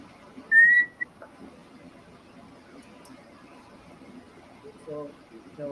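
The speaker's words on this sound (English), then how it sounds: "Ooh, a whistle." A pet reptile gives one short, clear, high whistle near the start, bright and isolated against a quiet room, with a faint click after it and a voice later on.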